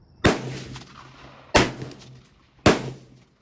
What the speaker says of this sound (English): Now shooting high, so I'm gonna go right